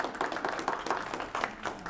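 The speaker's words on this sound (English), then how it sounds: "Let's give Wendy another round of applause" A small audience at a Kiwanis club meeting claps in a moderate, fairly sparse burst of steady hand claps, with no voices over it.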